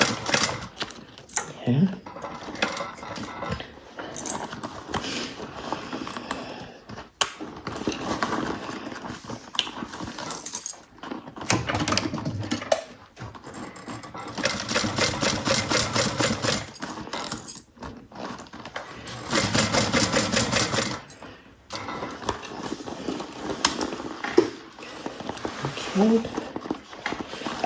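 A domestic sewing machine stitches a fabric bucket bag in bursts of steady mechanical whirring and clicking, separated by pauses, close up, with a person talking between runs.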